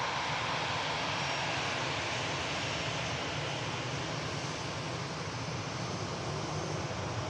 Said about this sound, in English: EasyJet A320 from Copenhagen.